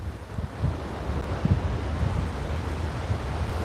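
Harbor water washes in with the incoming tide during Tropical Storm Fay in New York, a steady rough rush of surf mixed with heavy wind buffeting on the microphone.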